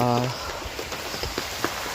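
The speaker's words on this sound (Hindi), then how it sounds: "अभी लग गई है बहुत ज़्यादा तेज़ मूसलाधार बारिश" Heavy torrential rain in a hill village, a dense, steady hiss with scattered louder drops; a short voice is heard at the very start.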